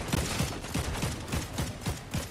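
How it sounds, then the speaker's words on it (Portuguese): Gunfire in the video game Fortnite: a rapid, evenly spaced string of about seven loud shots, close and clear, with no talking. "eu tô dando tiro"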